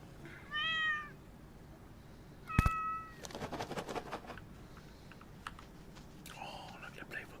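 A cat in the pet shop game Exotica 2: Pet Shop Simulator gives two short meows, with keyboard clicks and a soft voice between them.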